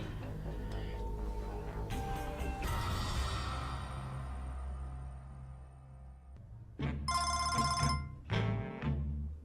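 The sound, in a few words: telephone ringing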